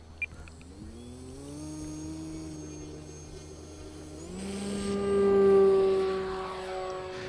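Balsa kit model airplane with a 3515 electric motor on 4 cells and an 11.7 propeller taking off: rising electric motor whine and prop buzz, climbing in pitch as throttle increases, then a louder surge as it lifts away.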